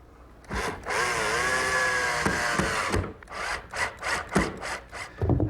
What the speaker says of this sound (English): Just attach it with some 2 1/4-inch screws.